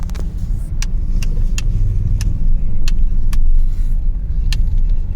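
A car rolls along and turns through Noida streets while hunting for a parking spot, its engine a steady low rumble throughout with a few sharp clicks and ticks from inside the cabin.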